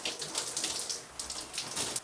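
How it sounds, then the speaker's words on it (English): Water runs and splashes over hair as shampoo is rinsed out during a long wash day, a steady patter that swells and dips with no talking. "go ahead and rinse this out"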